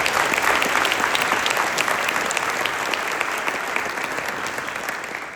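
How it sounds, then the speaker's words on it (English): A large audience at a speech honoring Captain Kyle Caldwell breaks into steady, dense applause that stays loud and even throughout, with no voices standing out. "Give yourself a round of applause."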